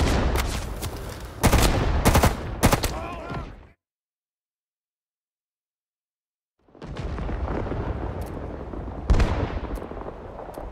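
Battle gunfire from the Vietnam War shooter game Rising Storm 2: Vietnam brings loud, dense bursts of shots and blasts, then about three seconds of total silence, then more rolling fire and explosions. Voices are heard amid the noise.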